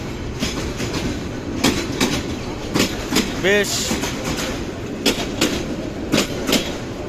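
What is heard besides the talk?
local train departing Sripur railway station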